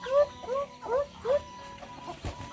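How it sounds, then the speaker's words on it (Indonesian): Chickens at feeding time give a run of four short, close clucks in a quick rhythm, followed by softer rustling and a faint thump in a backyard setting. "lanjut ngasih makan ayam."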